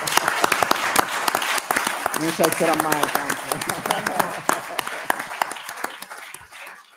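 A small audience at a book and music presentation breaks into applause, sharp individual claps close and distinct, fading gradually while someone talks briefly over it.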